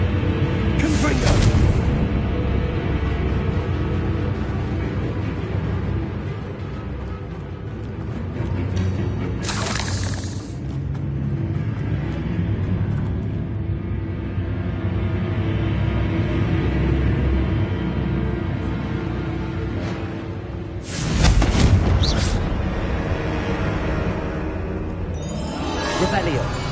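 Confringo blasting curse explosions in the Hogwarts Legacy video game, several sharp bursting blasts spaced across a busy game soundscape, with talking over parts of it.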